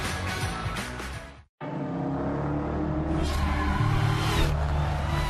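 Fast cars driven by stunt drivers on a closed course in a Dodge commercial, engines loud and continuous throughout with a brief full dropout near the middle before the roar resumes.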